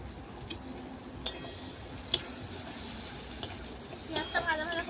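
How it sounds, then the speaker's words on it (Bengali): Chopped onion fries in a pan with cumin seeds, a soft continuous sizzle broken by occasional clinks and stirring scrapes of a utensil, fairly quiet and close. "পেঁয়াজটা ভাজা ভাজা করে নেবো।"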